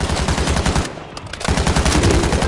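Shotgun fire in a video game shooter, loud rapid blasts in quick succession that pause briefly before resuming in a dense volley.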